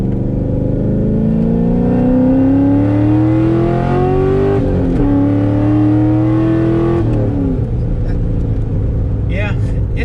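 A cammed C6 Corvette V8 pulls hard through the gears, its loud rising engine note climbing, then a shift and a lift off the throttle, with pops and crackles on overrun near the end. Someone talks over it.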